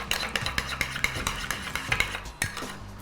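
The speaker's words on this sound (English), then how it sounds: "Just whisk that in very roughly" Egg white and yolk whisked roughly in a bowl, a quick run of light clinking taps of utensil against the bowl, fairly close, with no talking.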